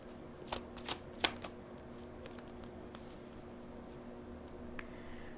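Tarot cards being handled during a reading, a few soft, quick card snaps and flicks near the start, then only faint scattered rustles over a quiet background hum; no speech.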